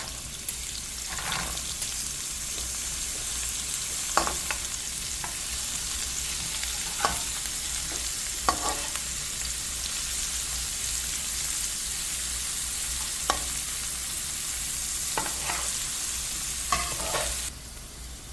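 Dried chilies, garlic and carrots sauté in a pan for spicy pasta, a steady close sizzle broken by scattered scrapes and stirring knocks, with no one talking.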